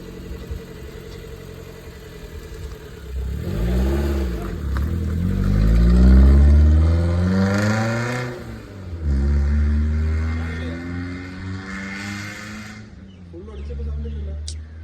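A modified Maruti Zen with a custom exhaust, driven while the engine revs through several rising and falling sweeps, loud and close, with a voice talking faintly underneath.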